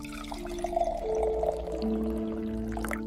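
Water poured from a vessel into wine to dilute it, a short liquid pour with a rising gurgling tone that fills and then tapers off, heard close and alone.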